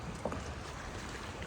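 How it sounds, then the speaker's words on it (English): Wind and choppy lake waves buffet a kayak, producing steady blustery microphone rumble and dense water wash close around the boat, continuous with no talking. "just dealing with this wind and battling the waves"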